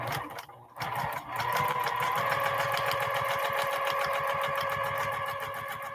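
A sewing machine fitted with a quilting foot runs a steady, rapid stitching rhythm after a brief stop-start lock stitch, loud and close, continuing evenly for several seconds.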